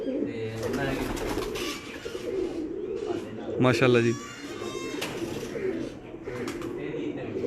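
Teddy pigeons at a breeder's loft in Kasur coo repeatedly and fairly close, their soft throaty calls running under a man's speech throughout.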